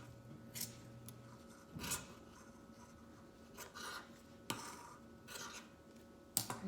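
Scissors snip through yarn to trim it into a feather shape, giving a few quiet, scattered cuts and rustles against a faint background.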